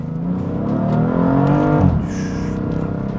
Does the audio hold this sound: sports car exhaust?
yes